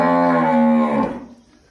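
A single cow moos loudly and close by in a farm corral, a long harmonic call that fades away after about a second.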